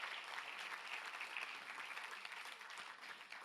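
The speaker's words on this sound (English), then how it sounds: "how about a round of applause for these young men" Audience applause at a gala program, a dense, steady wash of many hands clapping that continues evenly throughout, fairly faint and distant, with no talk over it.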